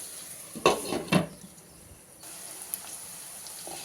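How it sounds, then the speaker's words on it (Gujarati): A lid goes onto a pan of bitter gourd curry with two close metallic clanks in quick succession, followed by a soft background hiss with no talking. "હવે આપણે આને ઢાંકી દઈશું"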